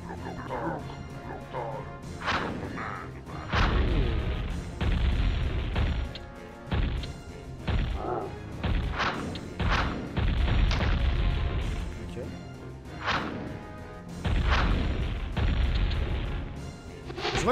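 Explosions and catapult fire from the Warcraft Remastered orc campaign: repeated loud crashing booms and impacts in irregular bursts, with battle noise running underneath throughout.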